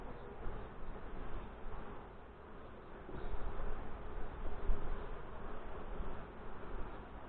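Honey bees swarm around an open backyard hive during a June inspection, a dense steady buzz filling the space close by, continuous and fairly loud with no talking.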